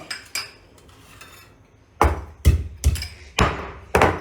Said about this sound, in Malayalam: ഇഞ്ചി ഒന്ന് കുത്തി ചേർക്കട്ടെ കേട്ടോ